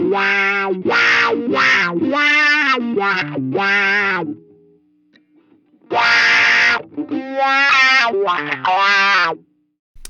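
Electric guitar phrases through a Line 6 Helix modulation effect placed after a drive pedal, two distorted bursts of notes with chorus-like shimmer, separated by a short near-silent pause.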